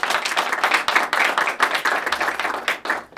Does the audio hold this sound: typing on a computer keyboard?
no